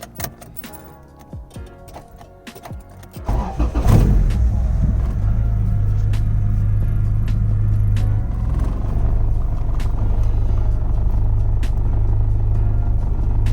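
A car engine cranks briefly and catches around a few seconds in, then settles into a steady, loud idle rumble, with light clicks and handling noises beforehand.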